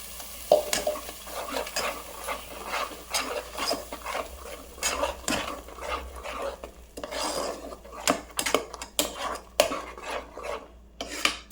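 Ground masala paste with turmeric sautéing in a pan over low heat for a salna curry, a steady frying sizzle broken by repeated scraping stirs of a spoon against the pan, close and with no voices.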